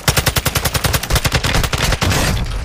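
Rapid automatic gunfire rings out in Warzone 2.0, a loud, close burst of evenly spaced shots that runs for about two seconds before tapering off.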